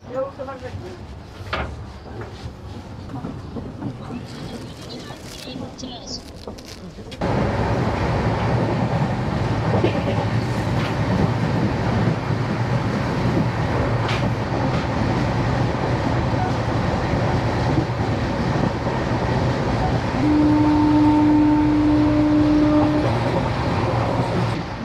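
Inside a first AC coach of the Padatik Express, the train rolls on with a steady loud rumble that swells after a quieter opening stretch, with a brief tonal whine near the end and talk throughout.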